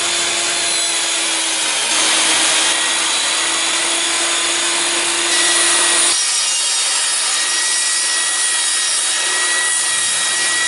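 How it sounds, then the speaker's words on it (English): A power tool cuts dado joints into wood for the drawers of a log dresser, giving a loud, steady, close grinding whine that shifts in pitch and strength a couple of times as each cut proceeds. "Now I have to do the dado joint thingies."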